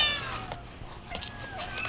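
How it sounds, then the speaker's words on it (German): Kittens in a German-dubbed Sailor Moon audio drama meow faintly in short, soft calls over a background of low hum and other sound. "Sag mal, fütterst du diese Kätzchen eigentlich jeden Tag?"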